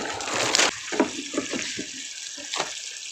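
Liquid nutrient solution, fertilizer A and B, is poured into water for raising lettuce seedlings, a steady splashing trickle with a few gurgling drops as the flow tapers off.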